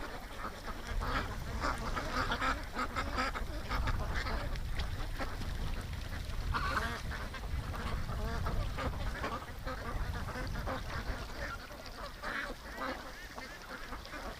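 Young ducks playing on the water quack and chatter in a flock, fairly faint and distant, with repeated overlapping calls and splashy ambience throughout.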